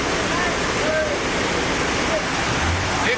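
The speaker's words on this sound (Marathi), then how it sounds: "डोंगरावरून येणारा पाण्याचा जोरदार प्रवाह महामार्गावरून वाहत होता." A strong flow of runoff water pouring off a hillside and across a highway near the Urse toll plaza makes a steady, loud, close rushing roar that stays unbroken throughout.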